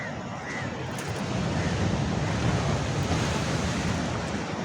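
Sea waves wash onto the eroded shore at the Kalutara river mouth, Sri Lanka, in a constant roar, with wind buffeting the microphone and no one speaking.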